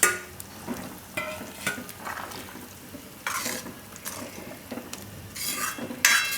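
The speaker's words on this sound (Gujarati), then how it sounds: "તો એમાં આપણે આ રોટલી નાખી દઈશું" Rotli pieces are stirred into boiling spiced buttermilk in a pan, with repeated spoon scrapes and clinks over a low simmering bubble and occasional bursts of sizzle. No one speaks.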